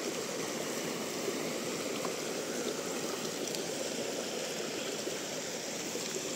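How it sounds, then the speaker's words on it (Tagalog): Steady running water of a stream flowing across a farm lot in the Philippines, a continuous close rushing and trickling wash with no voices. "Running water."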